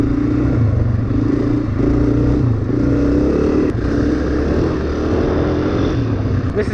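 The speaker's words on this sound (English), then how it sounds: "where you're actually feathering the throttle" Dirt bike engine held at a steady, loud drone while the throttle is feathered on a flat gravel corner, the pitch swelling and easing in short repeated pulses with no break.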